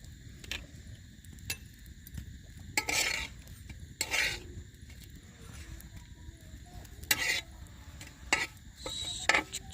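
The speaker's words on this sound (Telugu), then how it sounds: "లైట్గా ఫ్రై అయ్యిద్ది." Bread fries lightly in a pan while a utensil stirs and scrapes against it. The scrapes come in short bursts over a soft, steady background.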